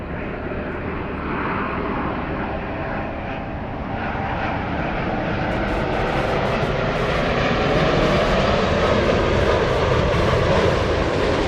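An airliner arriving at LAX from Narita gives a steady, broad jet roar that builds gradually louder over the span, with no voices.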